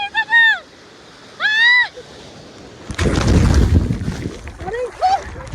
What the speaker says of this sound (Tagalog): Kasi malakas ang alon eh.